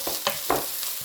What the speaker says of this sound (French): on va juste faire revenir les oignons pour les faire ramollir un petit peu